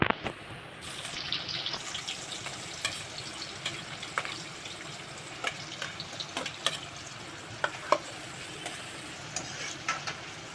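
Cumin seeds and chopped onion frying in hot oil in a kadhai for Maharashtrian pav bhaji, a steady broadband sizzle with scattered sharp crackles and pops throughout, moderately quiet and unaccompanied by voices.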